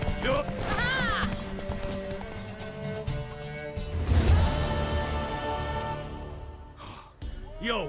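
Galloping horse hooves and a neigh in The Witcher Wild Hunt during a race, moderately loud and mixed with game music, with voices and a gasp breaking in partway through.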